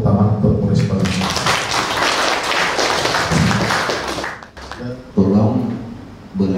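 Audience applauding for the Balangan police station at a religious study gathering, a burst of clapping of about three seconds between stretches of someone talking.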